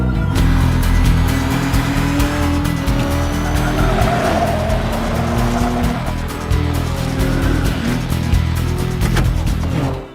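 Ford race car tearing around Daytona during a race, its engine roaring loud and steady the whole time while tires squeal and skid over it, with no talking.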